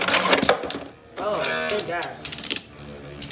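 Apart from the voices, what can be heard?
Beyblade X Silver Wolf launched and spinning in stadium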